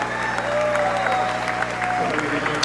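Spectators applaud at the Tour de France 2025 final stage finish on the Champs-Élysées in Paris, a steady dense wash of clapping and crowd noise with tonal sounds and voices running through it.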